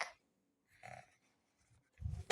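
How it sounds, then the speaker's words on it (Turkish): Pencil drawing on paper, sketching a large figure: a few short, faint scratchy strokes separated by quiet gaps, ending in a louder rub and a sharp tap up close. "Ben böyle büyük bir boydan çiziyorum."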